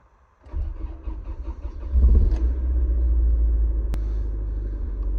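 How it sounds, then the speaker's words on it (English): A low-mileage Honda Del Sol with a weak battery cranks briefly, then its engine catches and settles into a steady, close rumbling idle that swells slightly as it starts. "let's crank her up and see what happens"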